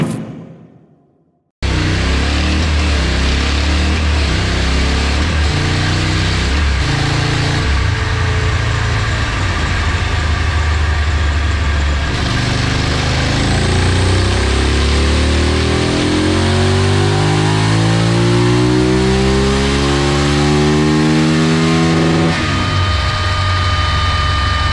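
A KTM 990 Supermoto R with a rebuilt LC8 V-twin engine runs on a dynamometer, loud and close, holding steady before a long rising rev sweep climbs toward the limiter and then drops back.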